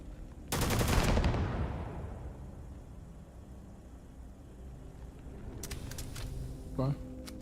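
A video-game gun firing explosive rounds lets off a loud blast that rings and decays slowly, followed later by a quick burst of sharp shots over a steady background rumble.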